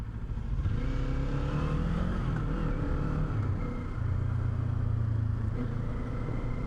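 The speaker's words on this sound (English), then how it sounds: "there's a good grunt to this 451cc motor" A 2026 Kawasaki Z500 SE motorcycle with a 451cc engine rides through traffic, its steady engine drone shifting pitch as revs rise and ease, close and loud over wind and road noise, with no talk.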